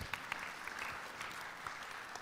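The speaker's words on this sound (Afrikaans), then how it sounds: "Kom ons gee vir haar 'n klap." A group of children claps together in a church setting, a soft, fairly faint patter of applause lasting a couple of seconds.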